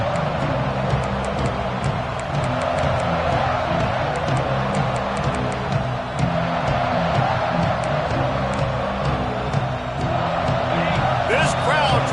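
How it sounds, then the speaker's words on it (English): A college football stadium crowd at North Carolina versus Rutgers roars steadily throughout, a loud sustained wall of cheering with an announcer talking over it. "This crowd trying to show them what it's going to be like all day in this house"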